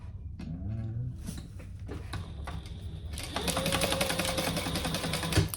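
A sewing machine stitches a backpack seam with the base pressed against the machine bed, whirring steadily at close range and speeding up into a faster, louder run after a few short starts.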